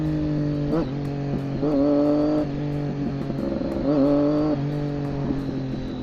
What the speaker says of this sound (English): I love making noise on this bike.